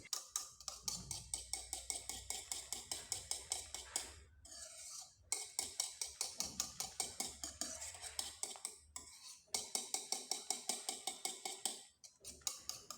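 A spoon stirs semolina into a thick watermelon-rind mixture in a pan, giving quick, rhythmic scraping and clinking strokes against the metal. The strokes run steadily, with a few short pauses, close and clear with no talk.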